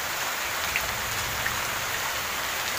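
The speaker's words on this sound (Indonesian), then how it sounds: "Hujannya deres, lemahnya teles." Heavy rain pours down without pause, a dense, even hiss of drops striking surfaces at close range, with no voices.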